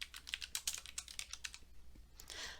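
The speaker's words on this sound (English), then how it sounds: "Tab once to go to the right margin. And type in your name." Rapid keystrokes tapped out on a computer keyboard in an irregular burst of close, light clicks, no voices.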